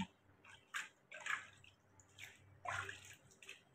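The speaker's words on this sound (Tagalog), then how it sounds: "Hugasan ko siya ng maigi ngayon." Freshly harvested produce is washed by hand in water, with faint, irregular splashes and sloshes every second or so at close range.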